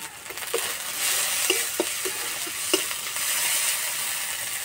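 Spice masala of chili powder, turmeric and sugar frying in a pan as it is stirred, a constant bright sizzle broken by several distinct close scrapes and clicks of the spoon against the pan.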